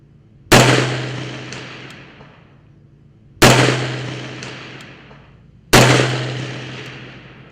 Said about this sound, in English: When shooting over barricades that might have some extra cover out in front of it, make sure you've got clearance for the bullet to actually get down to the target